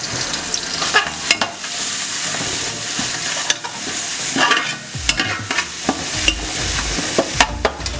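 A spoon stirs chicken, browned onions, green chillies and ginger garlic paste frying in a pan for chicken pulao. Steady oily sizzling runs under repeated scraping and stirring strokes, close and loud, with no talking.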